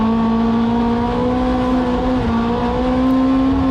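Drift car on new Kenda KR20A 195/55R15 tires accelerating hard, a loud sustained engine drone holding a steady high pitch, close and continuous with no talk.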